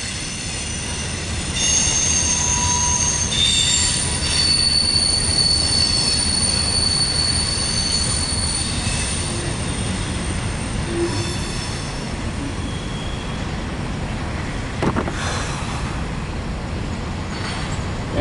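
A CSX M300 mixed freight train rolls past heading east toward Baltimore, its wheels squealing in long high-pitched whines over a loud continuous rumble of railcars.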